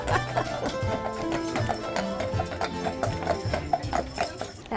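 Draft horses prancing at the Kentucky Horse Park, hooves clip-clopping in a quick, regular rhythm over background music, close and clear.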